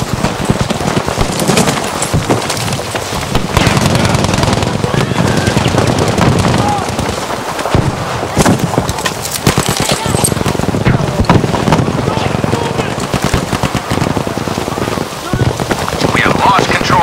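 An M1919 Browning machine gun fires in sustained, dense rattling bursts in the video game Battlefield 5, loud and continuous over a constant rumbling battlefield backdrop.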